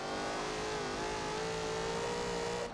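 A race car engine in a driving video game, revving steadily and loudly throughout with a sustained tonal drone whose pitch shifts slightly, continuous and close.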